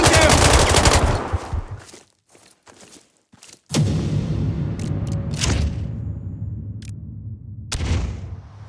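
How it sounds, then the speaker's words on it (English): Rapid automatic gunfire and single shots crackle loudly from enemies in a combat video game, with bursts at the start, short silent gaps, then renewed sustained firing. "They are shooting at us!"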